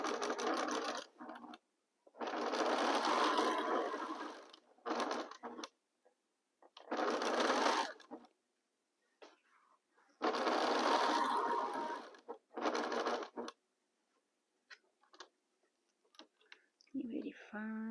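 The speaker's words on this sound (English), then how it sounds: "1/4 inch seam allowance, and let's start sewing." A sewing machine stitches quilt fabric for a pinwheel star block with a quarter-inch seam, running in several close bursts with brief pauses, loud and near, alone without talk.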